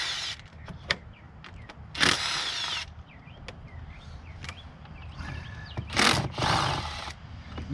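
Bolts being removed from the coil packs on a Ford 3.5 engine: short bursts of a power ratchet or impact tool whirring, several separate pulls with quiet gaps and small metallic clicks between them, close and fairly faint.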